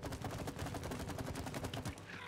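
The honey gun in the video game It Takes Two fires as a rapid, continuous stream of wet, popping shots, rattling quickly and evenly for about two seconds before cutting off.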